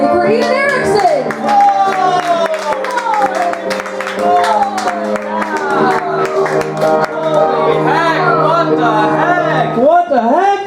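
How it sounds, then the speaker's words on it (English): A comedy club crowd at the Cupcake Cabaret claps and cheers for stand-up comedian Ian Erickson, loud and close, with excited voices and shouts mixed into the clapping. "Everyone please clap very, very loudly for Ian Erickson."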